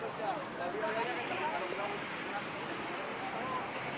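Heavy rain pouring steadily, a dense constant hiss that fills the whole stretch evenly, with a faint murmur of voices underneath.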